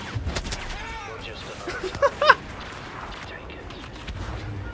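Short bursts of blaster fire in a Star Wars Battlefront hero duel between Boba Fett and Luke Skywalker, a few sharp shots clustered midway, with excited voices around them.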